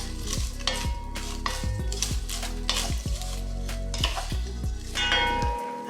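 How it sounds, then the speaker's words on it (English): Broken pasta is toasted in a metal pot for Mexican sopa de fideo, stirred with a utensil that strikes and scrapes the pot in repeated ringing clinks, over a faint sizzle, with no talk. "We're gonna toast this pasta."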